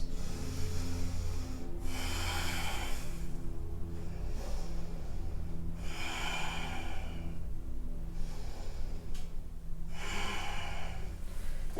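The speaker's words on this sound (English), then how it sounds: "3 big belly breaths" Deep belly breathing during a vinyasa yoga flow: three long, airy breaths, each a few seconds long, spaced evenly over a soft, steady music bed.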